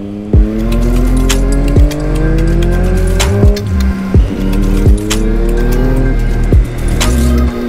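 Car driven fast along winding roads, its engine loud and close, rising through gears in repeated climbing revs, with brief dips at each shift and occasional sharp bumps between pulls.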